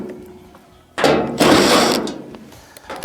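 A power driver whirs in two bursts, removing quarter-inch screws from the back panel of a clothes dryer, loud and close with short pauses between.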